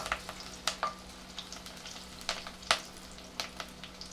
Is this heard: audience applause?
no